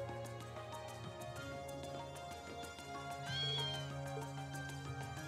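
Cat meows in the game Trails of Cold Steel, a few plaintive calls over a steady game music bed, fairly faint and without talk.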